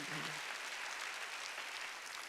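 A church congregation at a Sunday worship service claps together in steady, dense applause filling the room, moderately loud and continuous, with a brief voice at the start.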